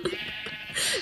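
Minecraft sheep bleating once in a short, nasal, wavering cry, close and clear, with no talking over it.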